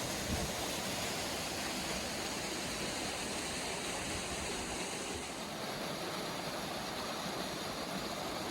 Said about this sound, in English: Our last waterfall was the tallest